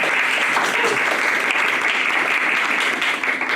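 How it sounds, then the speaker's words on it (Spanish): A conference audience welcomes a speaker with sustained applause, a steady wash of many hands clapping, loud and continuous from start to finish. "¿Les parece si lo recibimos con un aplauso?"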